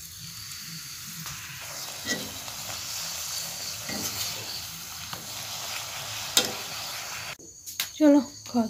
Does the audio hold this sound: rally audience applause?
no